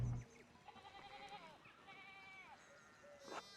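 Sheep bleat repeatedly in the video game Pentiment, several wavering calls overlapping one another at moderate distance, with a short louder bleat near the end over a quiet background.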